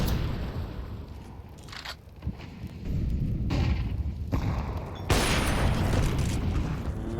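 A flashbang grenade goes off in a Counter-Strike match, heavy booming blasts and a sustained ringing roar amid other in-game gunfire and explosion noise, loud and dense throughout.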